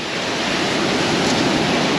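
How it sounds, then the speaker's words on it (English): Steady broadband wind roars across an open beach by the sea at Hordle Cliffs, a dense continuous rush blended with surf, loud and unbroken for the whole stretch with no voices. "I thought that wind had eased up"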